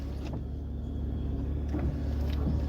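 Car engine idling after a key start, a steady low rumble close by with a slight shift partway through, no talking.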